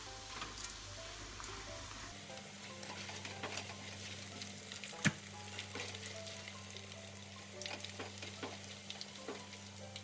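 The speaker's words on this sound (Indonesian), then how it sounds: "Lalu digoreng sisanya, serta terinya juga digoreng." Tempeh and anchovies frying in hot oil give a steady, close sizzle throughout, with one sharp clink of a utensil near the middle.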